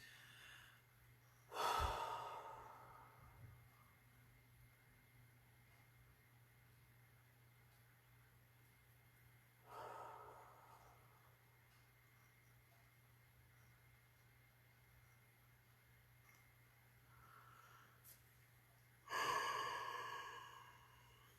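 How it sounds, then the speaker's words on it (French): Three slow, deep breaths, each a soft rushing exhale, spaced several seconds apart, with quiet room hum between them and no talking. "3 respirations profondes, juste pour qu'on calme le mental"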